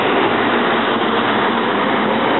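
Passenger train 371 rolls past at Bethayres with a steady, loud rushing rumble that holds evenly throughout, close by and with no voices.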